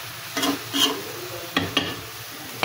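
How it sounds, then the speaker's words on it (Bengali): Bitter gourd slices frying in oil in pans on two burners, heard as a soft steady sizzle with a few scraping stirs and light utensil knocks against the pan, close by. "আর এই যে করলাটা এখানে ভাজি হচ্ছে, 2 চুলায় 2টো দিয়ে দিয়েছি।"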